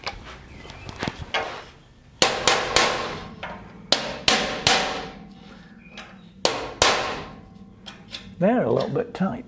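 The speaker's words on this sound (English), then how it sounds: "Just gonna knock the tops off these and then punch them through." Several sharp, loud hammer blows ring out in uneven bursts, knocking tops off and punching them through while fitting a steering guard and side steps on a Land Rover Defender, with some clattering and shuffling between strikes.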